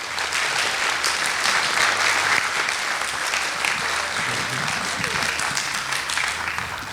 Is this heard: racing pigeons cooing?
no